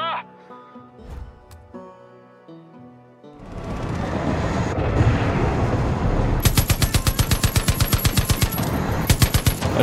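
Rapid automatic gunfire from the video game Far Cry 5 fills the second half in a loud, fast string of shots over a dense rumbling game soundscape, after quieter tonal game sounds.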